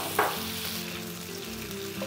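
Scallops pan-frying over low heat in butter and garlic give a steady, soft sizzle, with one brief brighter clink near the start and no talking.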